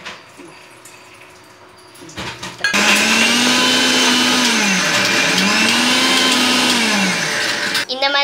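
Kitchen blender grinding cashews with milk for kaju katli, switching on abruptly and running loud and close with a high whine that dips and recovers as the load shifts, then cutting off at the end after quieter kitchen sounds.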